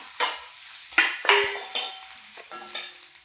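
Freshly pounded ground spices get stirred into a sizzling mixed vegetable gravy in a pan, steady frying hiss broken by several close scraping strokes of the spoon, with no talk.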